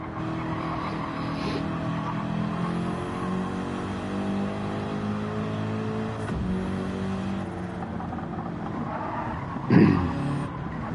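Race cars in a racing video game drone steadily at close range with a sustained engine note, a brief whoosh partway through and a louder burst of revving or a tyre noise near the end.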